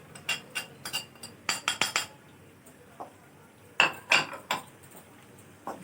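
Ground turmeric and coarsely crushed cumin being stirred into a pot of spinach and chicken, heard as a quick string of close metallic clinks and scrapes of a spoon against the pot, with a pause between bursts. There is no talking.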